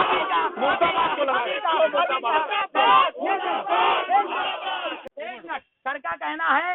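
Protesting university students in Lucknow chanting 'murdabad' slogans in a loud, dense crowd, rhythmic shouted chants nearly continuous with short gaps, close and overlapping.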